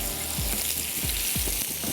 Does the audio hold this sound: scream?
no